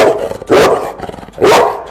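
A dog barks twice, two sharp, loud barks about a second apart, close by with quiet in between.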